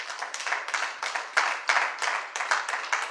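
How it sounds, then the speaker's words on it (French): A church congregation claps in steady rhythmic bursts while acclaiming Jesus, broadband hand claps repeating about every third of a second, moderately loud and sustained with no speech over them. "Acclame pour Jésus."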